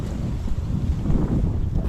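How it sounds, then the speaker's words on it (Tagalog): Strong wind buffets the microphone with a loud, continuous low roar, gusting slightly stronger toward the end. "malakas po na hangin"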